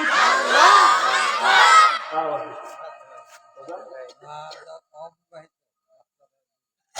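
A crowd at a gathering in Chapainawabganj shouts takbir together in a loud burst, followed by scattered shorter shouts and murmurs that fade to near silence.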